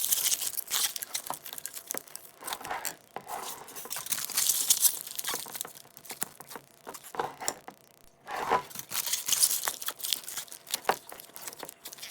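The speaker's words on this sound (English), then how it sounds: "we'll add some aluminum foil to prevent any more moisture from getting in the jars." Aluminum foil is crumpled and crinkled over jars of popcorn grain spawn in bursts of sharp rustling and crackling close by, with a brief pause partway through.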